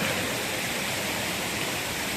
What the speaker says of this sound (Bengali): এসব ঝর্ণা দেখে না নেবে থাকা যায় না